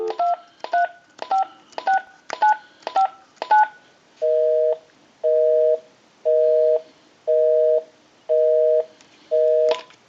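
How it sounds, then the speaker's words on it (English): Verizon E 9020 cordless telephone, a rapid run of keypad dialing beeps followed by six steady, evenly spaced busy-signal tones, clear and close with no talking. "We'll call my number and it'll be busy"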